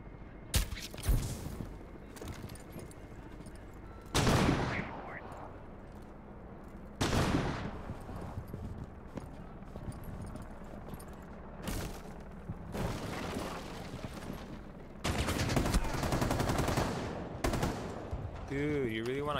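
Gunfire in Rainbow Six Siege comes in several loud bursts of rapid automatic shots separated by quieter stretches of background noise, with a voice speaking briefly near the end.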